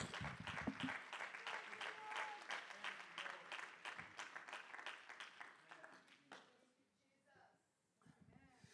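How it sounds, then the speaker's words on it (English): Church congregation clapping hands at a Holy Spirit service, a loud busy run of claps with voices for several seconds, then thinning out and fading toward the end. "Clap your hands to Him."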